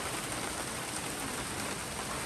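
Steady rain pours down during a night thunderstorm in Pullman, a dense, even hiss that holds unbroken from start to finish with no voices.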